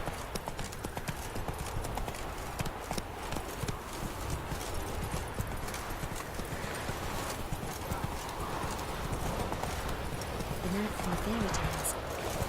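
Roach the horse runs in The Witcher 3 with a dense, continuous clip-clop of hooves across the whole stretch, close and steady, followed by a short whinny near the end and occasional voices.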